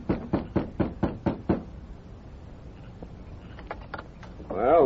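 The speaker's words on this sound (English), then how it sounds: "the masked man knocked on the front door" A masked man knocks on the front door of a sheriff's house in an old radio drama: a quick series of about seven sharp, evenly spaced raps, close and distinct, followed by quieter room sounds and a faint voice.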